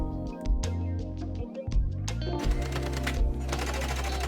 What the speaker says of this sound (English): Sew over the stitch that's already there.